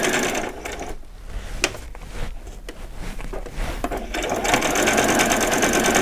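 A sewing machine stitches fabric for vet scrubs in a close, steady mechanical run, pausing briefly in the middle before resuming at full speed.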